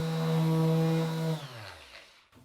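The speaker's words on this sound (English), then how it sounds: "This is where an orbital sander, which is designed for fine finishing," Bosch power tool running steadily and loud, a bright constant whine that spins down and stops about halfway through.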